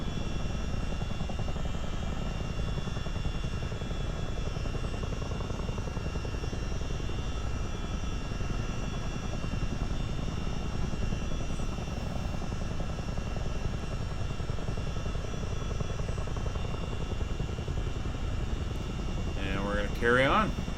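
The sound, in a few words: CH-47 Chinook helicopter in flight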